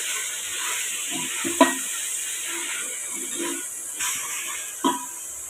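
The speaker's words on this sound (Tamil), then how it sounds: "இஞ்சி பூண்டு பேஸ்ட்டு 75 கிராம் சேர்த்துக்கலாம். 2 நிமிஷம் வதக்கட்டும்." Ginger garlic paste sautéing with mashed tomatoes in a pan for a white khushka rice dish gives a steady close sizzle and hiss, broken by occasional louder scrapes and taps of stirring.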